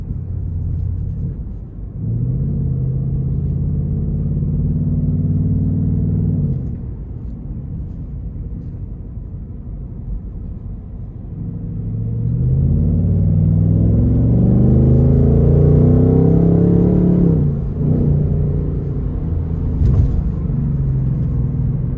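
A 2026 Ford Mustang GT engine revs and accelerates onto an interstate, rising in pitch through gear changes, with a steady road rumble throughout, close and fairly loud.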